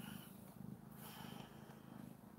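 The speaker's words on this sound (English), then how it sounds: "One of the kittens." A kitten purring softly and steadily up close in a quiet indoor room, with its low rhythmic rumble pulsing in even cycles, faint overall.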